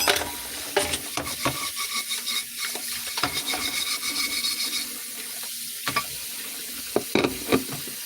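A pot being scrubbed in a kitchen sink, steady close rubbing and scraping strokes with clunks of the pot against the basin, water running in the background, no talking.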